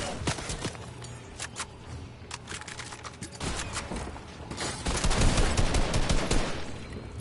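Shotgun and other gunfire in the Fortnite video game, a string of sharp cracks over a busy bed of game noise that swells louder toward the end, with no talk.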